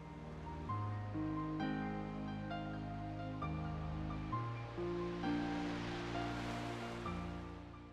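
Waves wash ashore on the Kingdom Hearts main menu under a simple, gentle piano piece, soft surf swelling and receding beneath the sustained melody.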